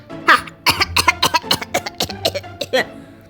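A series of rapid, harsh coughs bursts out in a fast irregular run, loud and close, with a short pause midway.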